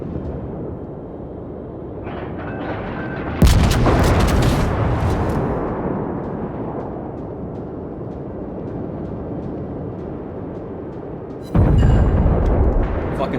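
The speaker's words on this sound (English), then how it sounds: "shells just going all over the goddamn place" Naval artillery from French battleships Dunkerque and Strasbourg in World of Warships: two heavy booming salvos, each a sharp loud onset followed by a long rolling rumble, about eight seconds apart.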